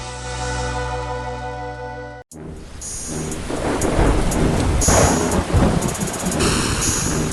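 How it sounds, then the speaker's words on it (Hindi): A loud crack of thunder breaks out, then heavy rain pours steadily with rumbling thunder, after a brief moment of near silence. "तूफानी रात के अंधेरे में अचानक एक जोरदार धमाका गूंजता है"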